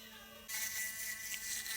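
Electric toothbrush hums steadily as it brushes teeth, a close, even buzzing that grows brighter and louder partway through and continues to the end with no talk.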